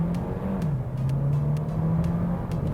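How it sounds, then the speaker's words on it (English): A Maxus G50 Premium family MPV engine pulls hard under acceleration, its steady drone climbing in pitch over a few seconds, heard close from inside the cabin with no talking. "Yeah, you could hear the engine noise, and it does accelerate quite well."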